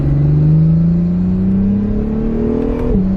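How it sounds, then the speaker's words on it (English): A loud 2017 Acura NSX sports car engine revs up smoothly, its pitch climbing steadily for about three seconds before dropping sharply as the throttle is released. "I want to be able to hear the car"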